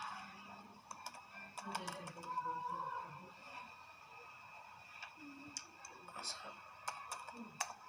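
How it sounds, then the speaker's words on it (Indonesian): JavaScript code is typed on a computer keyboard, giving faint, sparse clicks and short bursts of keystrokes at irregular intervals over a quiet background. "Kita ketikkan"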